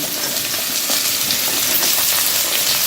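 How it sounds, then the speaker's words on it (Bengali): Carrots dropped into a hot pan of oil, frying with a loud, dense, even sizzle close up, unbroken and without any speech. "এরপরে আমি দিয়ে দিচ্ছি গাজরগুলো"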